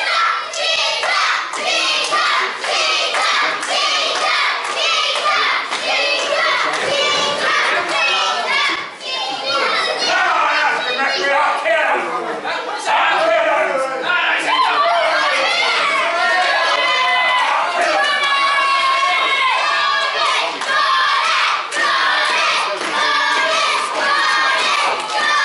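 Spectators at a wrestling match cheer and shout continuously, a loud, dense crowd roar with overlapping high voices and whoops, sustained without break.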